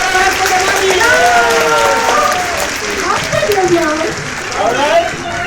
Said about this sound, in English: can you clap our hands for the mommy?